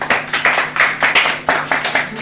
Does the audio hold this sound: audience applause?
yes